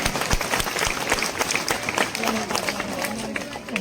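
An audience claps loudly for young children at an Independence Day celebration in a residential township, a thick, lively burst of applause with voices and some crowd noise mixed in.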